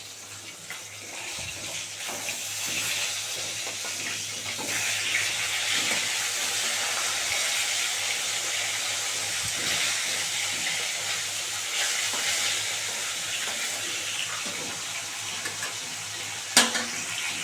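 Pieces of rohu fish fry in a pan, a continuous close hiss of oil with soft bubbling and a few faint clinks, ending in a sharp clatter near the end.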